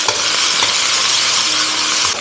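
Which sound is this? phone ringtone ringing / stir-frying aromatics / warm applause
stir-frying aromatics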